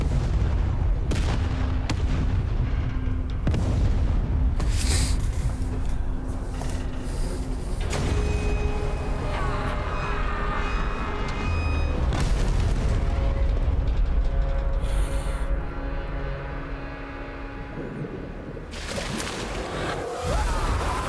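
Repeated heavy explosions and blasts from a zombie video game, loud and dense, coming in bursts one after another with rumbling booms and crackling debris throughout, with no talking over them.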